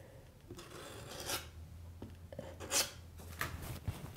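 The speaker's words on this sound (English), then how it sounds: "And very gently scrape it off any of the artwork." A razor blade scrapes old paint from an aged metal street sign, giving several rough, rasping strokes in separate bursts at close range with no talking.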